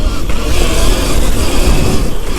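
An electric Surron Ultra Bee dirt bike accelerates hard in a wheelie-mode power setting, a loud continuous motor whine and rushing drivetrain noise that holds steady throughout, with no talk over it.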